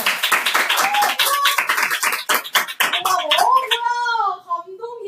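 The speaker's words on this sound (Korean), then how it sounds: "이렇게 크게 박수 받은 건 처음이야" Middle-school students in a classroom clap loudly for their teacher, a dense burst of applause that fades out, followed by a voice speaking alone.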